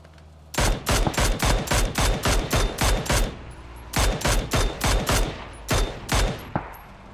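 Gunfire in the video game PUBG on the Erangel map: loud, close bursts of rapid automatic shots in a fast regular rhythm, two long volleys followed by a few shorter bursts and single shots, with no talking.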